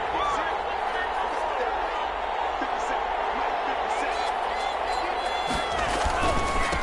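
Stadium crowd noise from an American football video game, a Green Bay versus Minnesota matchup on PS4, a steady, loud wash of roaring spectators that swells slightly near the end, with a commentator's voice over it.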